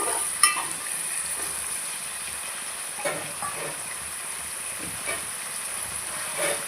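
Chickpeas frying and being stirred in a pan for home-style vegetable rice, giving a steady soft sizzle with occasional scrapes and clinks of the spoon, close and fairly quiet.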